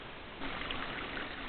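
Creek water flowing over bedrock, a steady close rushing and gurgling wash that swells slightly partway through, with no voices.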